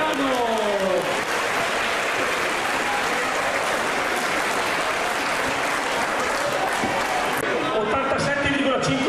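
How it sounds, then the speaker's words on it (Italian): A crowd at an agricultural festival in Cogolo applauds in a loud sustained burst, many hands clapping steadily while a voice talks over it near the start and end. "ancora un applauso a Celentino e Strombiano"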